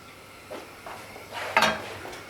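A metal frying pan holding a flatbread pizza base is set back onto a hot burner, giving a few soft scrapes and knocks and then one sharper clatter, with a faint sizzle underneath.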